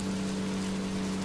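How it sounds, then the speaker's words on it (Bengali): Steady, dense rain falls without pause, a continuous even hiss with a strong low drone beneath it, used as a sound effect in a Bengali cartoon about a picnic bus heading home at night. "পথে বৃষ্টি শুরু হয়।"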